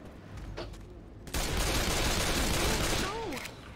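Bursts of gunfire from the zombie shooter game Left 4 Dead 2, a loud continuous volley of shots lasting a couple of seconds amid dense game noise, with faint talk beforehand.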